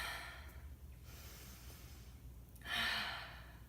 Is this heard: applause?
no